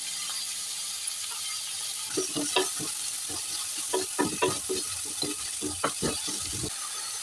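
Drumstick masala with tomato and coriander fries together in a pan, a steady sizzle under repeated scraping, ratcheting stirs that come in quick bursts through the second half.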